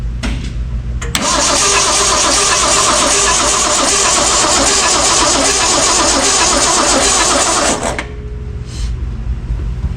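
A 1966 Ford Mustang barn find with a carburetor is cranked after sitting 40 years, the starter grinding loudly and steadily for about seven seconds with an uneven churning engine turning over, then stopping, with brief quieter moments before and after.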